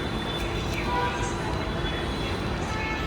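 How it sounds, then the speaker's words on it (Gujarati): Ahmedabad metro train rolls along with a loud, steady low rumble and rail hiss from inside the carriage, voices of passengers audible over the constant running noise. "મેટ્રોમાં આવી ગયા છીએ ઘી કાંટા"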